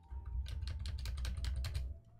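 Quick bursts of keystrokes on a computer keyboard while entering text in a Visual Studio 2022 WPF application, a rapid run of close, crisp clicks that then stops.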